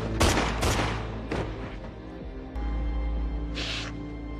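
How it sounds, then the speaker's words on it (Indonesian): Gunfire in an action film scene: a quick burst of loud, sharp shots close together, then a lone crack and a heavier muffled blast over a low rumbling backdrop. "Tidak mau ditangkap hidup-hidup, adik Sulaiman ini akhirnya ditembak mati"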